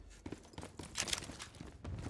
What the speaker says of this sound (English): I heard the footsteps on the metal railing.